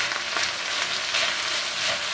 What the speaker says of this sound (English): I minced up 3 garlic cloves that I'll place in my frying pan with my ground beef and onion.